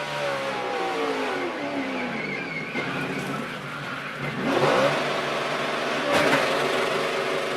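NASCAR race trucks roar past on track, engines revving and rising in pitch as they pass, with tyre skidding and loud surges near the end, heard alone.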